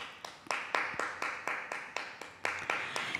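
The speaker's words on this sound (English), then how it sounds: "I invite you to clap your hands" Hand claps from a congregation at a Unitarian Universalist Sunday service, a run of about thirteen sharp, evenly spaced claps with a reverberant room tail, alone without talk.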